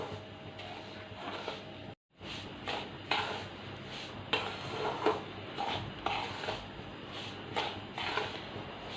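Semolina (rava) roasting over medium gas heat in a pan for sweet rava laddoos, stirred continuously with soft scraping and light clinking of a spatula against the pan, steady and close with no talking.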